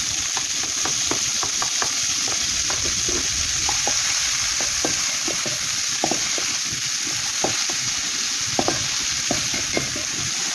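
Fish fillet frying in a pan gives a steady, close sizzle throughout, with frequent light scraping and stirring clicks over the constant hiss.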